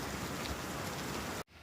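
Steady rain falling outdoors between storms, a dense even hiss of drops on surfaces that cuts off abruptly near the end, leaving quieter background.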